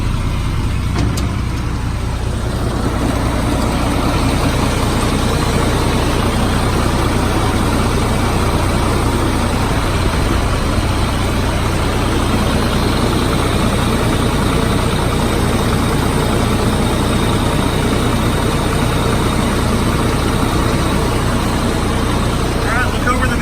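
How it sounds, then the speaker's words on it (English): A 2005 GMC truck engine idles steadily with a deep, constant low rumble, close and loud, with no change in pace across the whole stretch. "the motor sounds perfect"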